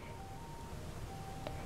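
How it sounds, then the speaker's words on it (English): In an online game, an ice cream truck plays a faint, thin melodic jingle of sustained tones beneath a soft background hiss, with no voices. "there's that creepy ice cream guy with the weird ice cream truck."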